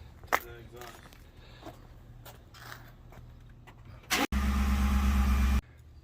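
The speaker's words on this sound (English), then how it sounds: "he's going to start it up so we can hear the exhaust before the install." A 2018 Ford F-150 Lariat with its stock exhaust cranks briefly and fires into a loud, close engine roar that holds for over a second, after a stretch of quiet talk and background noise.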